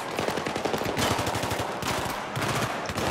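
Sniper rifle gunfire in a Battlefield 3 battle during Operation Guillotine, loud rapid bursts of shots cracking close by in quick succession, no talk.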